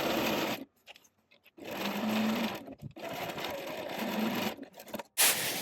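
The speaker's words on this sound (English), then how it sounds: "I'm going to take it to my machine and baste it in place using a 3/8 of an inch" Sewing machine basting a shirt yoke seam, running in loud bursts of steady stitching broken by short pauses, close and alone.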